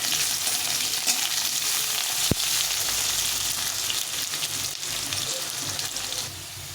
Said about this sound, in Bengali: আলুটা এরকম লাল লাল করে ভেজে নিয়েছি